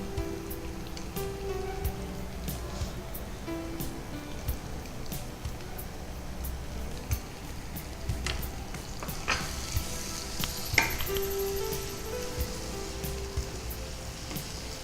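Prawn noodles with capsicum, carrot and tomato stir-fried in a pan: a continuous close sizzle with scattered sharp clicks and scrapes from stirring, and no voices.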